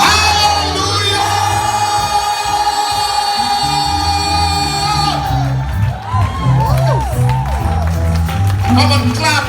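Church congregation in St. Lucia on New Year's Eve, a loud crowd shouting and whooping together over music, then a burst of voices and cheers in the second half.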